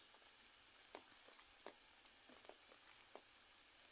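Oil sizzles steadily in a hot pan for a home-cooked dish, a constant bright hiss broken by small crackles and pops at close range, with no talking.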